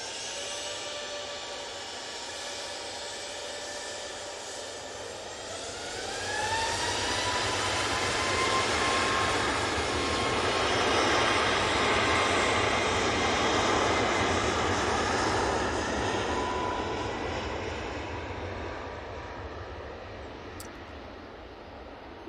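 A Ryanair Boeing 737 MAX 8 jet departing Manchester Airport, a long sustained roar of engines that swells as it passes and then slowly fades, steady and fairly loud with no talk.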